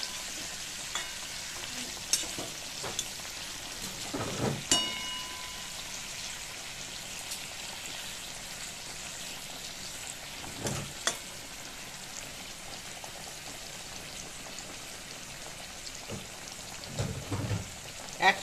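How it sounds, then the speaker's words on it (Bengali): Steamed bitter gourd frying in a pan gives a faint, steady sizzle and crackle throughout, with occasional louder pops and stirring scrapes. No voices are heard. "উচ্ছেটা ভাজা হয়ে গেছে, দেখুন"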